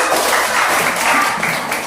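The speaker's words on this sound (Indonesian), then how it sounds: "Oke, tepuk tangan itu." Schoolchildren in a classroom clap their hands together, a dense, continuous patter of many hands, loud and close, with no pauses.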